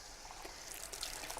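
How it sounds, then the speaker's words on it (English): Water runs from a tap while soap is rinsed off hands: a faint, steady hiss of trickling water with no voices. "Rinse off all the soap with water"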